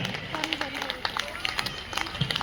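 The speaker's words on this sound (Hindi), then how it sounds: "एक बार रुकनी नहीं चाहिए तालियां" Crowd clapping at an outdoor election rally, dense and steady at moderate distance, with crowd murmur beneath.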